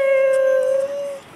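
A big female puppy lets out a single clear, close howl, a steady tone held for about a second before trailing off, with no talking.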